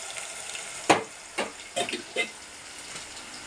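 Ginger paste frying with onion and green chilies in a pan for mutton curry, a soft sizzle broken by several sharp clattering stirs and scrapes.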